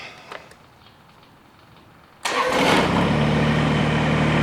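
A compact Kubota BX tractor's engine cranks briefly and catches, then settles into a loud, steady idle close by after a quiet stretch.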